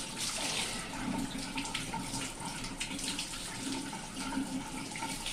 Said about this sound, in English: That water looks like it's running pretty clear.